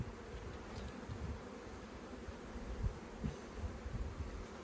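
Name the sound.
honey bees buzzing at an open hive frame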